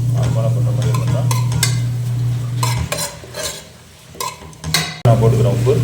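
Onions for beef biryani are stirred in a cooking pot, making repeated clattering scrapes and clinks of a utensil against metal over a light sizzle, with a steady low hum behind.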